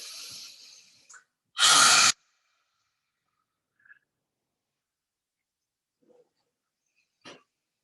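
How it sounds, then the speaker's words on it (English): Deep breathing during a yoga session for neck health: one loud, broad breath of about half a second stands out after a fainter exhale, followed by long quiet with a few faint, brief breaths. "Breathing in and out."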